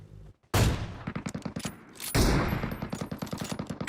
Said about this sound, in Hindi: अच्छा भाई एमके चलाऊंगा ऑटो